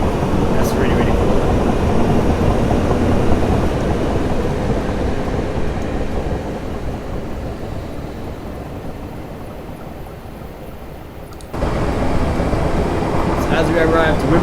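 A train pulling into Wimbledon station on the Hampton Court to London Waterloo route in the Train Simulator 2018 game: a steady, loud cab rumble and rolling hum that eases as it slows, then a sudden shift in noise near the end.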